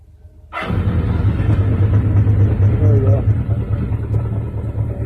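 A motorcycle engine cranks, catches and fires right up, then settles into a loud, steady, rumbling idle close by that runs unbroken to the end.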